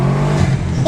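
A tuned Subaru WRX engine revs hard on a dyno, a loud, close, sustained roar with a rising tone near the end of the short burst.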